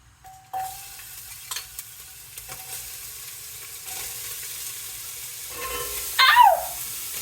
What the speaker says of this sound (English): you start by heating up the oil and then adding onion and garlic